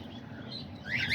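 Cockatiels, parakeets and lovebirds in a pigeon loft give a soft, brief chirp and a rising tweet over a low, quiet background hum.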